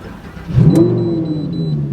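A Lamborghini Huracan's engine starts and revs up, then holds a steady, loud droning note as the car pulls away, close and alone with no talk.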